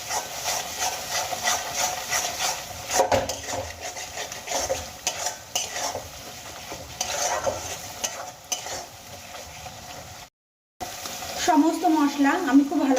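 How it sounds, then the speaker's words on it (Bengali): Ground spices cooking down in oil in a pan for a Bengali potato, pea and paneer curry, sizzling steadily under repeated scraping strokes of a spoon, with a short pause and a voice near the end. "এবার আমি মশলাগুলো খুব ভালো করে কষিয়ে নেব।"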